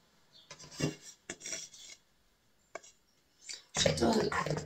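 Fried, peeled eggplant being chopped with wooden utensils, giving irregular scraping, knocking strikes in separate bursts, with a denser clattering run at the end.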